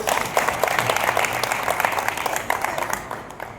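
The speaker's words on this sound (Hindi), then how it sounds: "एक बार इनके लिए भी ताली बजा दो" Audience applause at a live Hindi comic poetry show (kavi sammelan) held for Mahaveer Jayanti 2025: steady, dense clapping from a crowd that carries at an even level for nearly four seconds without a clear break.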